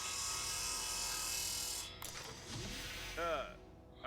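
Saw drill cutting open a door in the space game Breathedge: a steady mechanical grinding whine that cuts off abruptly, followed by clunks, a scraping rasp and short metallic squeals as the door gives way.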